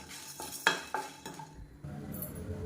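Whole peppercorns and spices dry roasting in a pan for Tamil-style pepper chicken fry, heard as a few close scrapes and clinks of a spoon stirring against metal over a faint, low background.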